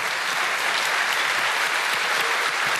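An audience at a live science show in Bonn claps together, a loud, dense burst of applause that fills the space close by and holds steady throughout.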